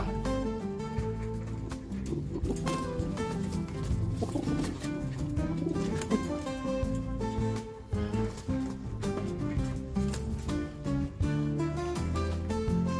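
Tippler pigeons, a Pakistani and Serbian high-flyer cross, coo softly and repeatedly under a continuous layer of background music. The birds sound fairly faint.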